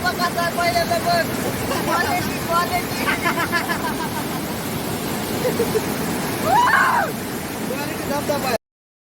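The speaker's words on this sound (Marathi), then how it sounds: "काय धबधबा कसा पहिल्यांदा बघ" A village waterfall roars as a constant broad rush of falling water, loud and near, with people talking and calling out over it.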